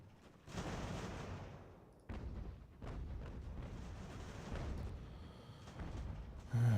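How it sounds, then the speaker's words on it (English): Enemy artillery in Ultimate General: American Revolution, a strategy game set in the New York campaign, booms out in several heavy rumbling blasts that come in waves, fairly faint and distant under battlefield noise. "Dealing with that enemy artillery is going to be a problem."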